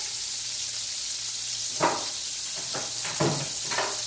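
Chicken frying in hot grease for copycat orange chicken, a steady bright sizzle throughout, with several louder crackling bursts as pieces are moved and flipped.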